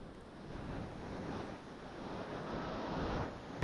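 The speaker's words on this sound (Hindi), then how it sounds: "इतना ठंडा पानी और इतनी तेज़ हवाएं चल रही है" Strong wind gusts and the rushing Ganga river at Gangotri blend into a steady broadband roar, moderately loud and unbroken, with no voices.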